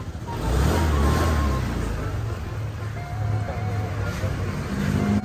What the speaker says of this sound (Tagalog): Umaandar na nga ang PCX niya